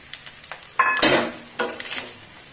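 Chili chicken sauce and a splash of vinegar go into a pan and get stirred: sharp metal utensil clanks and scraping against the pan over a light sizzle, in short bursts, with no talking.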